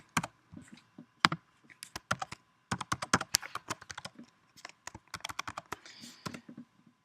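Fast, uneven typing on a computer keyboard at a login screen, with crisp close clicks in bursts and short pauses, clear and alone with no talking.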